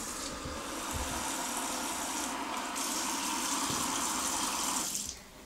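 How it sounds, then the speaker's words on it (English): Hot water pouring from a tap into a bowl of noodles for Thai fried noodles, a steady close gushing fill lasting about five seconds before cutting off, with no talking. "and fill it with hot water."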